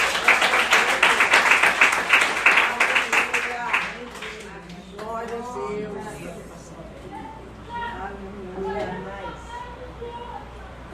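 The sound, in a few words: church congregation applauding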